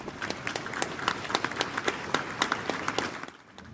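Steady applause from a crowd in Manchester Cathedral, dense overlapping claps at an even level that begin to thin and fade in the final moment.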